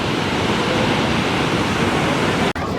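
Purva waterfall near Satna carrying a heavy flow of water, a dense, loud, continuous roaring rush, close by, with a brief dropout near the end.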